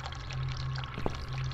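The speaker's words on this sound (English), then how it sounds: "Water from the bathtub. Please flood the bathroom floor." Water pours from a bathtub in the video game The Cat Lady, a steady, continuous rushing flow with a low hum beneath it and no talk.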